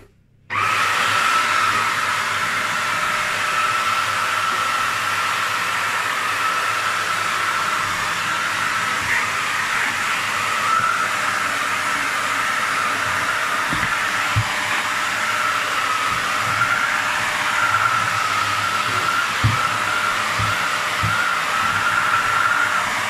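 Karcher FC5 hard floor cleaner switched on and running across a floor: a steady, loud whirring motor drone with a hissing airy edge that holds constant for over twenty seconds, with faint rolling bumps underneath.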